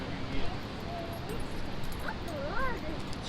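A dog named Bailey barks and whimpers outdoors, short whiny yelps rising over steady background noise during a whitewater outing at Ocoee, moderately close and mixed with a low rushing hiss.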